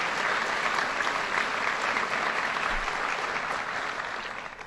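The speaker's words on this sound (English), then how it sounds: "Let's give her a round of applause, Mayor Warren." Large hall audience applauding at a governor's budget address in Rochester, a dense, even wash of clapping that holds steady, then gradually tapers off at the close.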